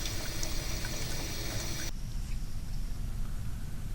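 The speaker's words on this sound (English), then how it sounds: "The stream of water from this garden hose is turbulent, as one can tell from both its appearance and its sound." A steady, broadband rush of water pouring from a hose, continuous and fairly close, with the hiss thinning slightly partway through.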